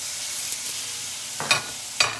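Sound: food sizzling on a grill

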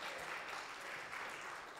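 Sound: applause for Joanne and the choir

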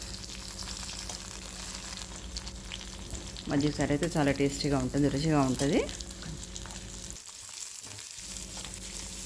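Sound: tempering of cumin, mustard, chillies, onions, curry leaves frying in oil

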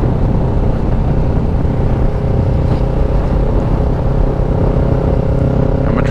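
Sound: Kawasaki Ninja 650 motorcycle riding and shifting gears

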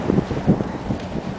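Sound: cold wind outdoors in snow

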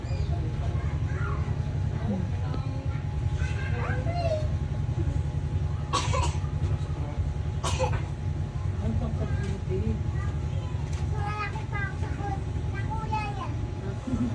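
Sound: coughing

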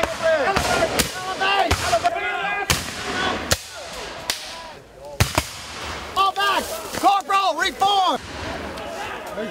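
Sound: musket gunfire at a Civil War reenactment

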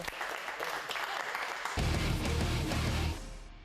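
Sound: applause

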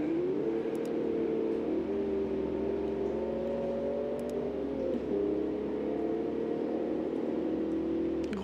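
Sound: car accelerating at full throttle in a video game racing game

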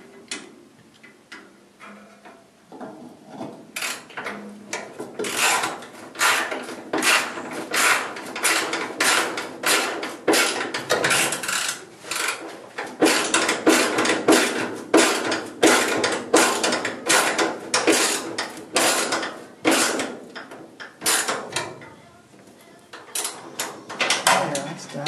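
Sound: driving a screw by hand with a screwdriver into cargo floor

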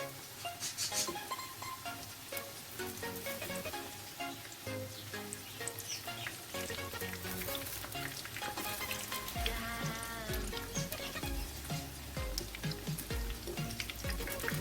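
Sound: dough flowers frying in oil in a pan

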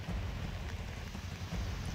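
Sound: heavy continuous rain in Chamoli, Uttarakhand

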